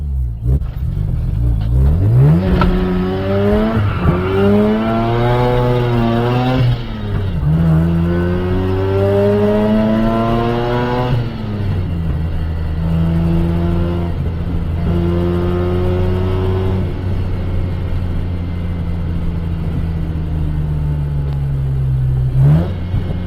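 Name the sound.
Mazda RX8 burning rubber, revving in first gear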